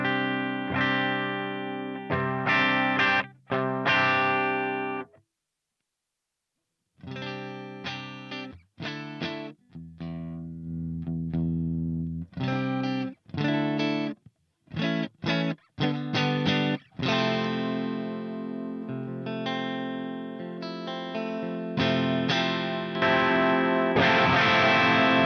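Electric guitar played through a 1978 Marshall amplifier with the bright cap switched off, giving a distorted, more balanced tone; chords and riffs ring out in bursts with short pauses and a sustained final stretch, no talking.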